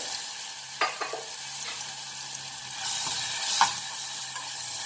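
Green chilli garlic paste hits hot oil with cumin, giving a close, continuous sizzle with a few spoon scrapes and stirring bursts that swell louder toward the end.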